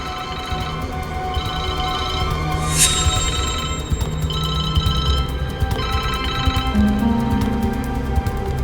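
A mobile phone rings with an incoming call, its electronic ringtone repeating in bursts near and clear over a low indoor hum, with no talking.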